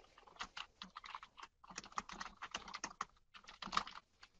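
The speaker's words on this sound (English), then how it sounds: "and just type away." Quick, irregular clicks of fingers typing on a computer keyboard during word-processing work, close and fairly quiet, with a brief pause partway through and no speech.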